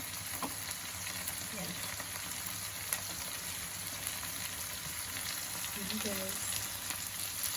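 Tofu and egg sizzle steadily in a hot frying pan with spring onion added, a continuous close crackle throughout, with a brief spoken word or two over it.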